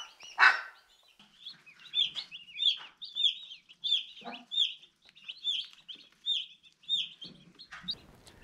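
Young poultry chirp and peep in a brooder holding chicks, turkey poults and ducklings, with a steady run of high, repeated cheeping calls close by and a few louder squawks and rustles between them.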